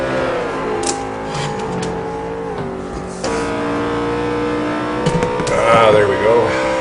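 A race car in a racing game at Twin Ring Motegi holds a steady, loud engine drone that shifts pitch through corners, with a brief tyre scrub near the end and a voice talking over it.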